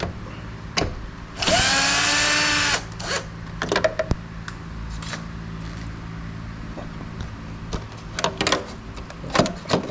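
A power tool whirs briefly and loudly as it loosens nuts while a Haier 12000 BTU air conditioner is taken apart for cleaning, followed by scattered clicks and handling sounds of parts being pulled out.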